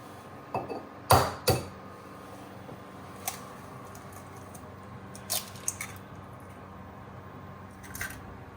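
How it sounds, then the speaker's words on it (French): Eggs are cracked into the wells of a shakshouka simmering in a pan, giving a few sharp, close cracking and squishing taps spread over a quiet background. "Puis, cassez délicatement un œuf dans chaque puits"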